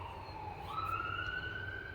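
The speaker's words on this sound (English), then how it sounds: "Excuse me, the sirens going by." A siren wails nearby, its pitch sliding upward as the vehicle passes, over low traffic rumble, with no talking.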